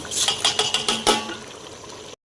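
Meat frying in a pot with green chili paste, cumin, curry leaves and cinnamon while being stirred, with sharp metal spoon scrapes and clinks against the pot over a steady sizzle; the sound cuts off abruptly near the end.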